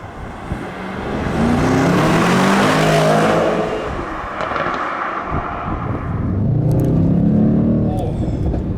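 A 2019 Mercedes-AMG E63 S engine revs hard, rising and falling, with sharp exhaust crackles and pops as the throttle lifts; loud and close.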